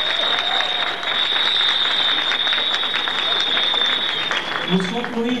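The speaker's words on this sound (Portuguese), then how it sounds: "a salva de palmas de turma" Steady, dense applause from a crowd at a 2005 graduation ceremony of CEFET-PB's Cajazeiras unit fills the whole stretch at even loudness, with a thin high electronic whine running underneath.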